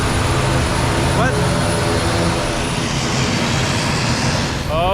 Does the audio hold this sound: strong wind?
no